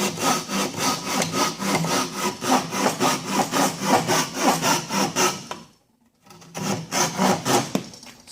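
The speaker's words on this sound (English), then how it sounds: "Here, let's go with the Bahco Laplander. This one ought to take some work." A Bahco Laplander hand saw with small teeth cuts wood in quick, regular strokes. The loud, close rasping stops for a moment partway through, then resumes for a few more strokes.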